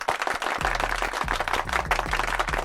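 Applause from a home crowd celebrating the Texans' big win over the Saints, a dense wash of many hands clapping with a low rumble underneath, loud and steady throughout.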